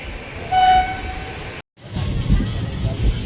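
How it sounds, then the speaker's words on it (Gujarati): An Okha-Rajkot passenger train pulls out of Jetalsar Junction, its horn sounding near at first, then steady rolling rumble of the carriages continuing alone. "જેતલસર જંકશનથી આપણી ટ્રેન ઉપડી ગઈ છે"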